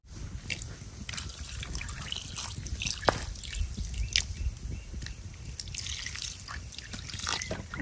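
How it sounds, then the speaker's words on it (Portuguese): Water pours and trickles into a cooking pot outdoors in the Amazon, with small splashes and drips over a steady low background hum; no one speaks. "Agora vou botar um pouco de água"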